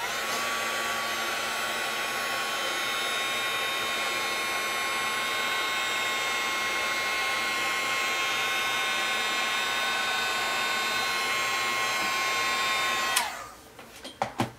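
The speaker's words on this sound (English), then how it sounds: "More embossing powder on and heat it again." A heat gun blowing hot air to melt embossing powder, a steady loud whooshing whine with a high tone held for about thirteen seconds before it clicks off, followed by a few light handling knocks.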